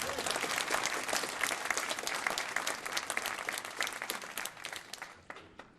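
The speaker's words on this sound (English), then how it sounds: "So let's give him a round of applause." Crowd applause at a ribbon cutting ceremony for an affordable senior housing building, a sustained full clapping from many hands that carries on evenly before tapering off at the end.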